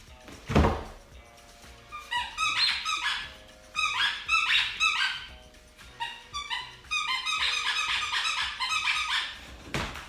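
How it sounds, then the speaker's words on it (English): Squeaky dog toys give repeated bursts of shrill, rapid squeaks in clusters over several seconds, close by, after a single dull thump at the start, with no talking. "Can also add some squeaky toys."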